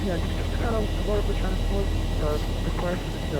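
Boeing 737-900ER engines drone steadily during a heavy takeoff climb in the X-Plane 11 flight simulator, a continuous loud roar with people talking over it throughout.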